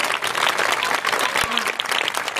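Audience at a Marathi comedy kirtan by a child kirtankar breaks into loud, dense applause, a steady wash of clapping throughout with one sharp thud near the middle.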